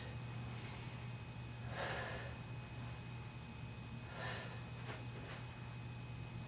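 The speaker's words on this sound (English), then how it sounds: "I want you to inhale as you go down" Soft breaths in and out during a squat interval workout, several faint airy inhales and exhales spaced a second or two apart over a steady low background hum.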